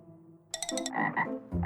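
A frog croaks loudly and close in a few rapid rattling pulses, followed by deeper throaty croaks, with no talk.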